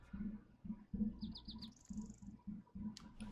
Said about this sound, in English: All right, you guys hear that freaking bird?